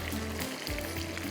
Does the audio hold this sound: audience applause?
no